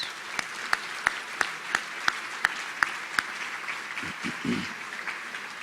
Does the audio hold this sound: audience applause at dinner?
yes